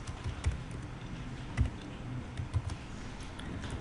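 Keys on a computer keyboard tapped while JavaScript code is written, a few soft, sparse clicks standing out against a steady low room hum, fairly faint and close.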